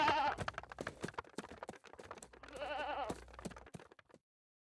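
Goats bleat loudly in wavering cries, one near the start and a longer drawn-out call later, with rustling and shuffling in between.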